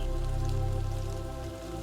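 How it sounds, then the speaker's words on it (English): Rain falls steadily in a forest, a dense close patter that stays loud and even throughout, with no voices. "You feel the rain on your face"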